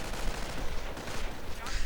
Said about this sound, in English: Grenadiers getting suppressed by the heavy machine gun